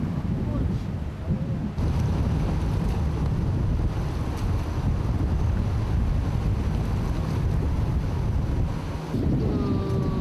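Strong wind buffets the microphone out at sea during subsea cable diving work, a steady loud roar with waves and water underneath and a few voices speaking briefly.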